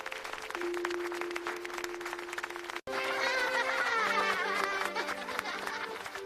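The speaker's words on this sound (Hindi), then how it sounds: "सब दोस्त तालियां बजा रहे थे" Children clapping at a cartoon birthday party: light, quick applause runs throughout, softer at first, then fuller and brighter after a brief cut, with a sustained musical tone and chatter in the background.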